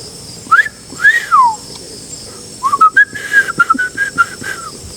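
A person whistles in a forest at Telaga Biru, close and loud: a couple of sliding, swooping notes, then a pause, then a quicker run of short rising and falling whistles over quiet background.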